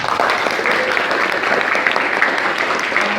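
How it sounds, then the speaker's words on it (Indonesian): Audience applause at a stand-up motivational talk, a steady dense wash of clapping filling the room from start to finish, loud and close with no pauses. "Tepuk tangan."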